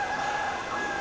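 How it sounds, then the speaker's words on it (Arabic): A rooster crows in a forest, one sustained, clear, fairly loud call that fills the moment over faint background ambience. "إنه صوت ديك."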